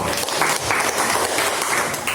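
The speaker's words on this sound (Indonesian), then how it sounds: "Tepuk tangan pada kelas ini." Schoolchildren in a classroom clap their hands together, a brisk, fairly loud patter of many claps lasting a couple of seconds with no talking.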